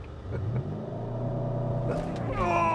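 A Mercedes-AMG GLC 63 S Coupé engine roars under full throttle, a loud, steady rising rumble that builds across the clip, with voices talking over it.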